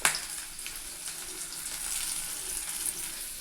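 Chopped onion, green chili and curry leaves hit hot oil in a pan with a sharp initial crackle, then settle into a steady close sizzle for kurma, with no speech.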